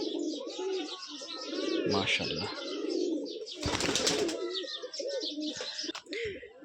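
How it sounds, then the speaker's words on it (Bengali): A male roller pigeon coos in repeated soft, low rolling phrases close by, with a wing flutter or rustle burst midway and a short spoken word from a person. "একটা রুমবাজির নর কবুতর"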